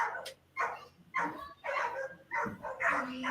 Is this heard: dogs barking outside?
yes